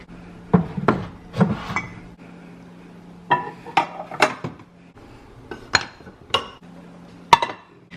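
Clean dishes are put away by hand: scattered clinks and clatters of plates, glasses and cutlery set down in cupboards, some sharp and close, separated by short pauses over a faint steady hum.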